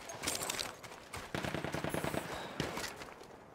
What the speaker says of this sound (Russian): Пулемет, берегись!